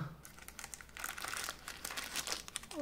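Paper documents crinkle and rustle close up while a hardware wallet is unboxed, a quick series of dry crackles and crumpling sounds with no talking.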